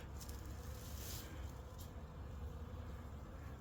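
A hive of honeybees opened during a winter inspection gives off a steady, low, continuous buzz, with a few louder passes of individual bees close by.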